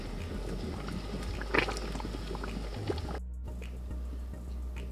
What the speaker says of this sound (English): I'm just letting it like fry together with the paste so they can incorporate together